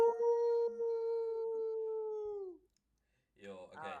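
A person's voice imitates a dog with one long, steady, howl-like note held for about two and a half seconds, then a short pause and a brief burst of strained vocal sound.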